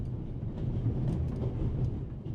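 The Orient Express train from the video game The Raven Remastered runs along its Paris-to-Istanbul route with a steady, low rolling rumble and no voices.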